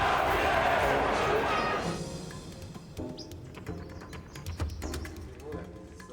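Emotional crowd in the streets of Siena, a loud, dense wash of voices that thins after a couple of seconds into scattered distant chatter, calls and chirping birds.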